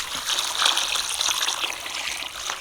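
A full bucket of water poured into a wok, giving a steady, loud rushing splash that runs the whole time without a break.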